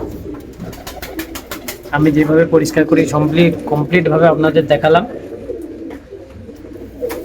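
Pigeons coo in a cleaned breeding room where birds sit with their young, a steady soft cooing running throughout while someone talks over the middle stretch.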